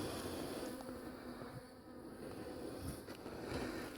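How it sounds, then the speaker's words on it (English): Bees buzzing inside a hive with no brood and no queen, a steady close insect drone with no voices. "So these are bees that are just surviving."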